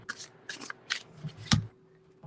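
Playing cards shuffled by hand during a casual evening hangout, giving several quick papery riffling bursts and a sharp snap near the end, fairly close and quiet with no talk.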